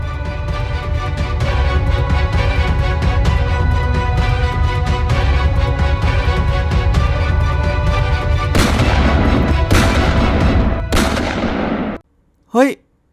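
Gunshots in an animated zombie cartoon, a steady barrage of loud, rapid shots over a droning background, followed by three sharp separate bangs and a brief high whistle at the end.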